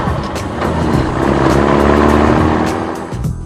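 A car pulling away, its engine rumble building and holding loud and close for a few seconds before easing off, with no talking.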